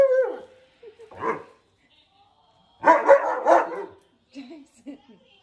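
Huskies bark, yip and whimper in short expressive bursts separated by quiet gaps, close and fairly loud, with a couple of drawn-out howl-like cries.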